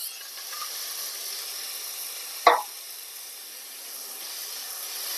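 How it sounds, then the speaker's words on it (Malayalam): Chopped cabbage sizzles in butter in a pan for a mixed vegetable soup, a faint, steady hiss that runs throughout, broken once midway by a single short utensil clack. "പിന്നെ ഇതിലേക്ക് നമ്മൾക്ക് കുറച്ച് കാബേജ് അരിഞ്ഞത് ചേർത്ത് കൊടുക്കാം."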